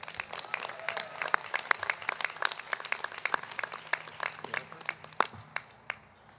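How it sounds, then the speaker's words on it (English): Audience applause at a university commencement ceremony, the Woodbury University Class of 2026, with scattered individual claps standing out against a moderate, fairly thin round that tapers off toward the end. "give them another round of applause"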